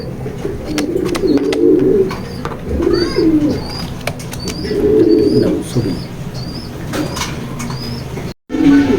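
Racing pigeons in a loft coo close by in repeated low, rolling bursts, with scattered sharper bird chirps and brief rustles between them.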